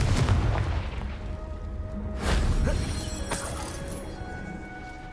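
A Confringo blasting spell explodes against rocks in Hogwarts Legacy, a loud booming rumble that swells and slowly fades.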